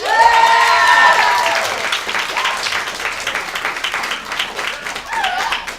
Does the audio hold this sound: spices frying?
no